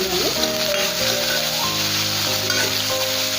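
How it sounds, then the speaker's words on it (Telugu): Thinly sliced onions sizzle steadily in hot oil with fried cumin, a continuous close frying hiss with background music playing throughout. "ఇప్పుడు సన్నగా కట్ చేసుకున్న ఉల్లిపాయలు యాడ్ చేస్తాం"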